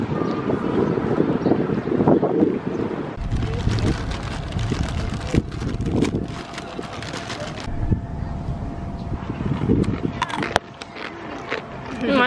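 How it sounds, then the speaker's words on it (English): Strong wind buffets the microphone in heavy, continuous roaring gusts, with a brief sharp knock near the end. "It's super windy."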